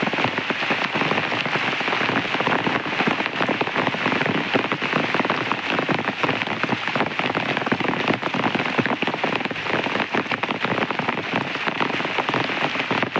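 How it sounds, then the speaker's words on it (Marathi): Heavy rain pours steadily, a dense, continuous patter of drops on surfaces with no voices. "पाऊस चालू आहे."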